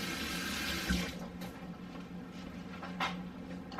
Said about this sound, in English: Oh, I gotta rinse my hand.